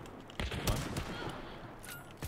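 Gunfire in the video game Hunt: Showdown 1896 comes as a few sharp shots and a short burst at middling distance, with game ambience between the reports.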